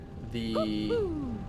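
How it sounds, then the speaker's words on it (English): An owl in the video game Tales of Arise hoots twice, each a clear descending tonal call, close and fairly loud over a faint steady ambient background. "also there's an owl hooting at me"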